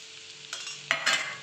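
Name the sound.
stirring spicy kurdai fry in a pan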